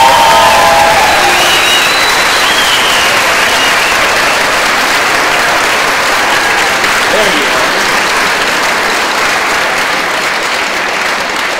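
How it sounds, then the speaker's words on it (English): An audience at a high school chamber music concert applauds loudly and steadily, a thick sustained clapping with faint crowd murmur and a few brief cheers underneath. "Let's give her a round of applause."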